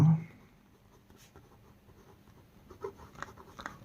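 A pen writes on paper while a maths problem is solved, with faint, scattered scratching strokes that grow busier toward the end, after a brief voice at the start.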